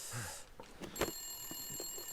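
A telephone rings with a steady, bright electronic tone inside the survival video game The Long Dark, starting about a second in over quiet, faint ambient sound.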